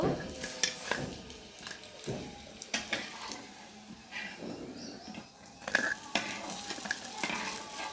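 Fritters (bora) frying in oil in a pan, a continuous sizzle broken by clinks and scrapes of a spatula against the pan, close and fairly quiet.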